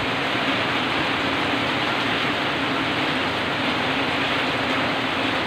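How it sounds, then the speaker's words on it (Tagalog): A steady, dense roar of heavy rain continues without a break, loud and close. "Lakas ng ulan."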